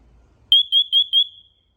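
A TREATLIFE combination smoke and carbon monoxide alarm sounds during its self-test: four loud, shrill, evenly spaced electronic beeps in quick succession, close and alone after a brief quiet lead-in.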